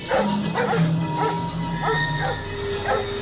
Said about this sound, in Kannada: ನಾಯಿ ಕಟ್ಟಿದ್ದೀರಾ?